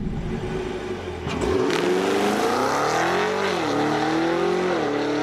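A performance car accelerates hard with an automatic gearbox, the engine note climbing and dropping as it shifts through gears on its own, loud and close from start to finish.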